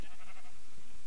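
A sheep bleats in Minecraft, one short wavering cry followed by a softer trailing bleat, close and clear, with no talking over it.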